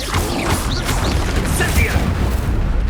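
Confringo and Incendio spell blasts go off in Hogwarts Legacy, a run of loud booming, crashing impacts with some mechanical clatter, close and dense with little pause between hits.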